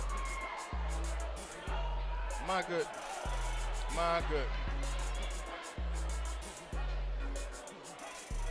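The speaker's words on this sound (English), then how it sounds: "The crowd erupting after that shot was made." A high school basketball crowd at the Grayson vs. Langston Hughes MLK Showcase game roars after a made shot, loud sustained cheering and whoops under a commentator's talk, with sneaker squeaks and ball bounces around it.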